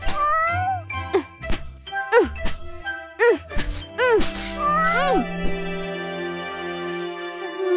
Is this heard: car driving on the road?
no